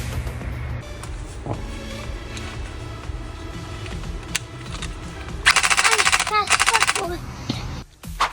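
A gel blaster running on an 11.1v battery fires a rapid full-auto burst of clattering shots lasting about a second and a half, after quieter handling sounds and talk.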